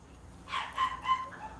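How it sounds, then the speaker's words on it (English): A few quick, muffled dog barks in a short burst, somewhat distant and faint, with no talking. "my dog's barking"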